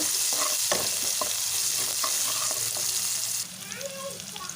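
Garlic frying in oil in a pan for tomato curry, a steady loud sizzle with spoon scrapes and stirring clatter, easing to a softer hiss near the end.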